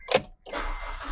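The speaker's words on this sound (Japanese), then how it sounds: "では、エンジンをかけてみたいと思います" A 2004 Honda Integra Type R 2.0 with a Mugen muffler starts: a short cranking burst, a brief pause, then the engine catches and settles into a steady idle.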